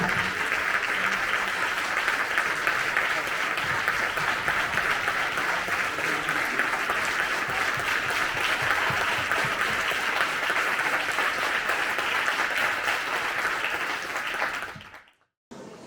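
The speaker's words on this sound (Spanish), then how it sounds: "Un fuerte aplauso para ellos." A flamenco gala audience breaks into loud, sustained applause for the group, a dense wash of many hands clapping for about fourteen seconds before it fades and cuts off abruptly.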